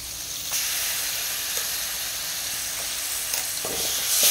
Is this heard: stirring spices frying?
yes